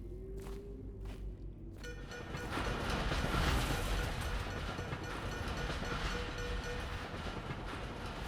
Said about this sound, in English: Oh, some kind of train up there. Some kind of locomotive.